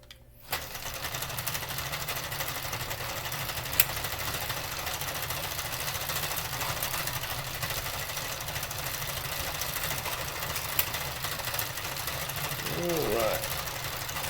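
A hand-cranked circular knitting machine working up a hat, a steady rapid mechanical clatter and whir running continuously and close up, with a voice talking faintly underneath near the end.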